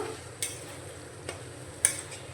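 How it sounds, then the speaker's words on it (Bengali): Yogurt-marinated soybean chunks are stirred in a pan over a very low flame, a quiet soft sizzle broken by three gentle spoon scrapes against the pan. "ম্যারিনেট করা সোয়াবিনটা দিয়ে দেব করা সোয়াবিনটা আমি দিয়ে দিয়েছি গ্যাসের ফ্লেমটা কিন্তু এখন একেবারে লোতে রেখেছি ভালো করে সোয়াবিনটা মিশিয়ে নেব"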